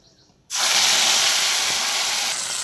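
Ground cumin, chili, ginger and tomato paste hit hot oil in a pan with a sudden loud sizzle. The steady hiss then holds alone after a quiet moment.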